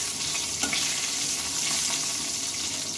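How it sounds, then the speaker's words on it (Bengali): A fish head fries in hot oil in a pan, giving a steady, close crackling sizzle with faint stirring scrapes and one brief louder pop, no voices. "আর এই তেলের উপরে আমি মাছের মাথাটা ভেজে নেব দেবো দিয়ে।"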